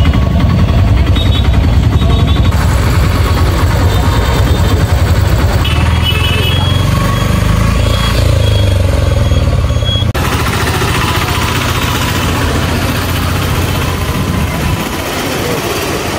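An auto rickshaw engine rattles and putters steadily up close, with road noise and the hum of passing traffic around it.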